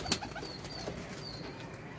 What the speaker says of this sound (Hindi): ये जी माशाल्लाह कबूतर है